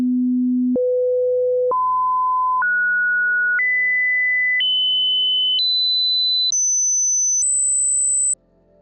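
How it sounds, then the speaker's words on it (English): Pure hearing-test tones step upward in pitch, eight steady beeps of about a second each, each one higher than the last, clean and loud with nothing else sounding, ending in near silence. "as we go from the left to the right, the tone gets higher pitch and higher pitch."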